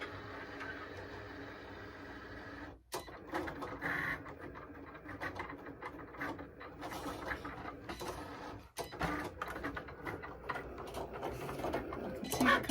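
A Cricut cutting machine cuts material at close range, giving a steady mechanical whir and buzz with rapid tonal shifts as the blade carriage moves, broken by two brief pauses.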